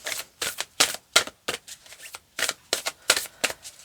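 Rapid bursts of cards being shuffled, a quick series of crisp riffling rattles separated by short pauses, close and loud.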